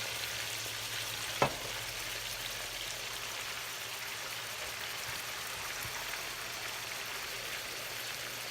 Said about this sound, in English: Now I'm going to add some Pinot Grigio, about 1/4 cup. And I'm going to let that cook down,